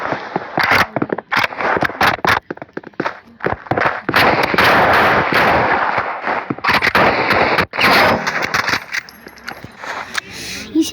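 Sniper rifle fire in the video game Rivals, a rapid run of sharp, loud shots and bursts that come in dense clusters with brief gaps between them, while a person talks throughout.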